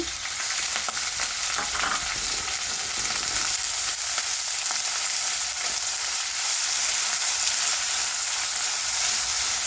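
Onions sizzle steadily in hot oil with curry leaves and green chillies for a bendekai gojju, a continuous close frying hiss with faint stirring and no talk.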